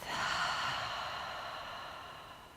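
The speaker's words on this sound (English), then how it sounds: "take a deep breath in through the nose. And exhale out through the mouth." A single deep breath is exhaled slowly through the mouth during a morning yoga session, a soft, close airy sigh that fades gradually.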